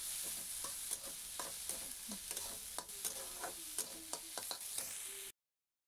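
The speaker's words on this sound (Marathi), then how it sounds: "मस्त बारीक कापून घ्यायचे आणि तेलावरती हे देखील छान परतून घ्यायचं" Finely chopped onions fry in oil in a pan, giving a steady soft sizzle broken by repeated clinks and scrapes of stirring, quiet and close with no talk.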